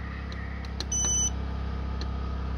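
Electronic beeps from a Growatt solar inverter as its settings menu is navigated: a few short, high tones, one held slightly longer, over a steady low hum.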